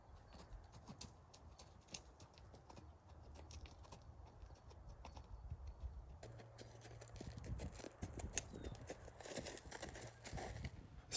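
Horse hooves clip-clop at a walk during a first trail ride on a mustang mare, a steady irregular patter close by with faint birdsong and outdoor rustle around it.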